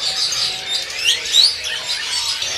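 Japanese munias and other small caged birds at a bird-selling kiosk chirp and tweet in high, quick bursts, several sharp calls standing out over a thin background chatter of birds.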